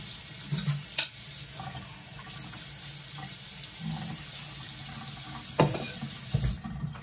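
Tap water runs into a sink at a steady low hiss while flour tortilla dough is mixed, broken by a few sharp clatters and knocks, all quiet with no talk.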